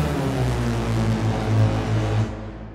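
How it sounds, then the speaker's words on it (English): Retrologue synth Dark Mass patch played with reverb switched on: a loud, dark, droning low tone with a wavering sustained pitch that cuts off and leaves a reverb tail fading out. "I'm going to the effects here and turning on the reverb."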